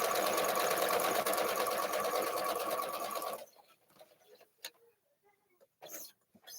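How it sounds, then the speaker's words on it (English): A sewing machine runs fast with a rapid, even clatter for about three seconds, then stops, leaving a few faint clicks and knocks. "how's the noise on the sewing machine?"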